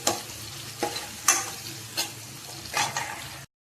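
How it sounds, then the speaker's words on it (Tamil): Onions sizzle with millet flour and salt in a pan, frying toward golden brown while a spoon scrapes and stirs in several distinct strokes over a soft, steady hiss. "வெங்காயம் தவங்குறதுக்கு தினைத்தூள் உப்பு போட்டால் சீக்கிரம் தவங்கும்."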